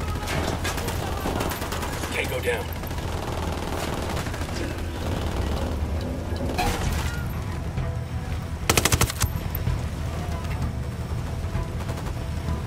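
Rapid automatic gunfire rattles in bursts during a Ghost Recon Wildlands firefight, sharp and close over constant game ambience, with a brief loud volley near the end and a voice speaking briefly.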